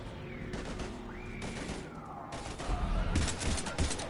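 Heavy gunfire in the Mass Effect video game crackles in repeated bursts of shots, mid-distance, growing louder and denser toward the end.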